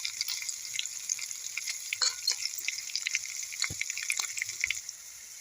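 Green chillies, cumin seeds and asafoetida fry in hot oil in a pan, giving a steady close sizzle with crackling pops and a few stirring scrapes throughout, with no voices.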